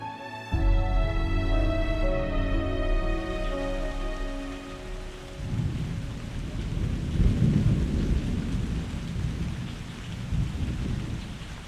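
Heavy rain pours steadily while a long rolling thunderclap rumbles loudly, swelling and fading under a downpour that continues throughout.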